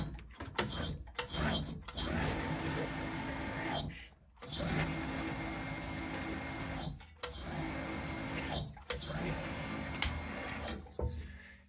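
A Schwartmanns roll bending machine hemming a 5 mm strip edge, producing a steady loud mechanical whir and grind in several long runs separated by short pauses and clunks.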